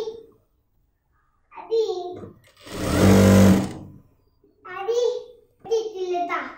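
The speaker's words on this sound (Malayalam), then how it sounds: "ഇനി നമുക്ക് ബാക്കിയുള്ള ഭാഗം സ്റ്റിച്ച് ചെയ്യാം." Sewing machine stitching a heavy Patiala salwar, a steady loud mechanical whir running about a second mid-clip, between stretches of a voice and someone talking before and after.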